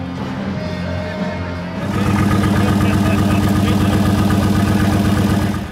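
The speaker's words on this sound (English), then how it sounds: "It's a truck motor from a semi-truck." A semi-truck diesel engine fitted in a custom hot rod at a roadster show idles with a steady low, pulsing rumble that grows louder and rougher partway through, close by, with crowd chatter faintly underneath.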